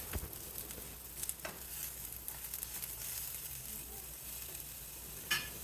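Chopped tomatoes sautéing in a pan with browned onion, garlic and coconut for a Tamil tomato chutney; quiet, steady sizzle with soft stirring scrapes and a few sharper clicks, no talking.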